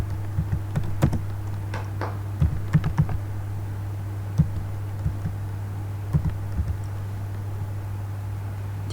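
Typing on a computer keyboard during a CSS coding session, scattered light clicky keystrokes in short bursts over a steady electrical hum, close and fairly quiet.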